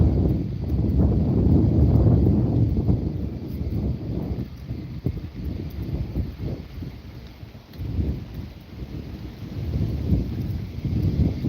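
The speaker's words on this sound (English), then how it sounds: "Got a good wind today." A strong breeze blows beside the Passadumkeag River in Maine, a steady loud rumbling roar of gusts across the microphone that swells and dips without pause, with no speech.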